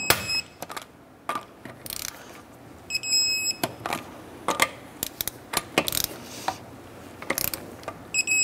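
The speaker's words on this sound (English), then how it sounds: "Torque down our wheels to 100 foot-pounds." A torque wrench tightens the wheel lug nuts on a 2006-2013 Chevrolet Impala to 100 foot-pounds, giving sharp, close ratcheting clicks in short bursts with brief pauses and a few high metallic pings between them.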